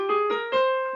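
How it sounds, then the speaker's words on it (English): A piano plays a minor scale as a few sustained tones in a short, close, clear passage with no talking. "Minor scale sounds sad and gloomy,"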